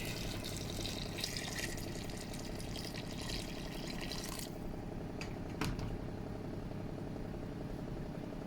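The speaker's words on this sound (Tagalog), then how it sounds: "Lagyan na po natin ng tubig." Water pours steadily into a cooking pot of mung beans for a chicken and lettuce monggo stew. The stream rushes continuously, then thins to a softer trickle, and no one talks.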